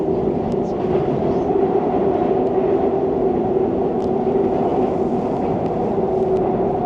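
Interior of a moving subway train in Korea, a continuous loud rumble and hum of the carriage on the rails with faint clicks and squeaks, no voices prominent.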